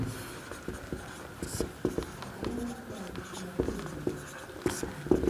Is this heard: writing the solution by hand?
yes